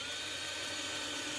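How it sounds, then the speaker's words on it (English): A power drill whines steadily, driving number 10 screws with washers into metal for a scrap-material container garden; the tone is continuous and bright, close and fairly loud, without any speech. "But he's just drilling them into..."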